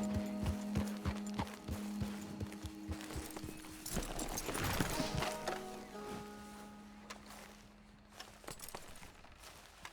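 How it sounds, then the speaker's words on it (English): Horse hooves clip-clopping at a walk in Red Dead Redemption 2, a regular series of close, sharp thuds with a low hum and other game sounds layered beneath. "That's a fine horse"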